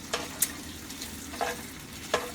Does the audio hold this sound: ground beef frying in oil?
yes